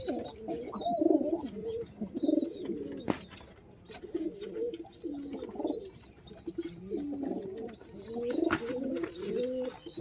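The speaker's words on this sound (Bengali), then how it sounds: "দুইটাই চম্বুক পায়রা" Pigeons coo in repeated soft, throaty bursts close by, with higher chirps and twitters scattered over them and a faint voice now and then in the background.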